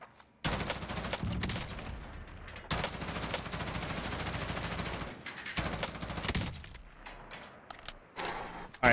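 Rapid automatic gunfire in the video game Warzone rattles in long, dense bursts with short gaps between them, loud and close, with a few scattered single shots toward the end.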